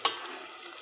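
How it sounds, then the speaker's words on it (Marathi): Vegetables for veg dum biryani fry in a pan: one sharp spatula knock, then a steady, close hiss of sizzling for under a second. "आपण याला छान असं फ्राय करून घेतोय"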